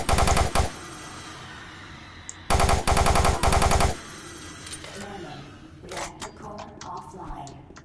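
Rapid bursts of plasma gun fire in Doom 3, two loud clusters of fast repeating shots separated by quieter game ambience, followed by scattered softer clicks and impacts.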